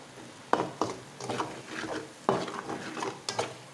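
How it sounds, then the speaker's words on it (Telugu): A ladle stirs and mixes food in a cooking pot, with several sharp scrapes and knocks against the metal in an uneven rhythm, close and moderately quiet, with a faint sizzle beneath and no talking. "చూసారా, ఇలా మొత్తం అంతా కలుపుకోండి."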